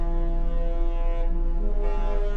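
A deep horn of the cruise ship Enchanted Princess blasts steadily, its rich harmonic tones shifting pitch to play a theme song, loud and close with no talking.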